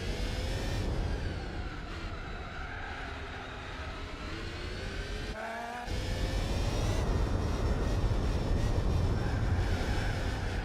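A race car in Gran Turismo 4 drives laps, its engine droning steadily with pitch sweeping up and down through gear changes, a brief cut near the middle, then a louder, higher-revving stretch; no talking.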